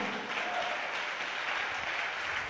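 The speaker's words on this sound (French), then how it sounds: "Acclamez le Seigneur pour lui." Congregation clapping together in a church during a convention service, a dense, steady wash of applause holding at even loudness throughout with no break.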